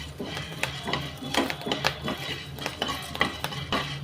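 Wheat roasting in oil in a pan is stirred briskly with a metal utensil, giving repeated scraping and clinking strokes in an irregular rhythm against a soft sizzle, close and fairly loud, with no talking.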